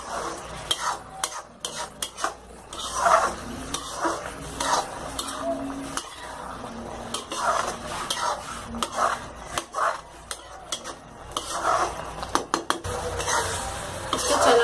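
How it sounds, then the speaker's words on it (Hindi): A spoon repeatedly scrapes and stirs sweet and sour pumpkin sabzi, made with raw mango and sugar, in a pan. The scraping comes as close, continuous rhythmic strokes with metallic clinks against the pan. "चलाते रहना है जिसे नीचे लग ना जाए जल ना जाए"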